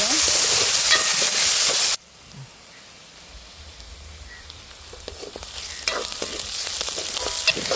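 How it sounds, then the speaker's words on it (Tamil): Small and large onions with garlic sauté in oil, a loud burst of sizzling at first, then a quieter stretch where the frying hiss and stirring build back up. "நல்லா எண்ணெயில் வதக்கி விடுவோம்"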